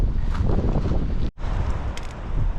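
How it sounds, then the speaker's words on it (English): Relentless high wind buffeting the microphone in the Tehachapi hills, a loud, continuous roar with gusty swells and one brief drop to near silence midway before the blast resumes. "I'm hoping the trail eventually gets me out of this high wind, because it is relentless."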